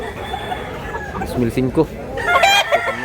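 An 18-month-old rooster at a market in Consolacion, Cebu, crows and clucks close by in loud, short bursts while people talk over it.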